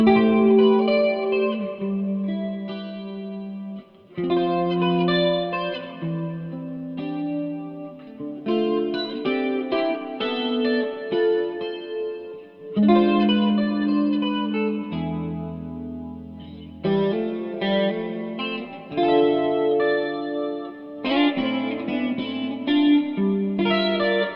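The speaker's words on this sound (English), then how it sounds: "all I really want is to use my spring reverb from Echofix, but I want it to sound stereo" Guitar chords and notes played through an Echofix spring reverb into a stereo chorus, shimmering and springy, swirling and wide, played continuously with tails ringing between phrases, no voices.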